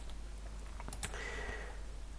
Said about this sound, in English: I'm typing in my address as an example.